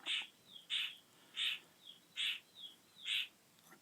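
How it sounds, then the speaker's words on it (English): Birds call outdoors in a steady series of bright, repeated chirps about every three-quarters of a second, fairly faint and distant over a soft background hiss, with no talking. "You may hear birds and frogs, but hey, I guess they want to join in"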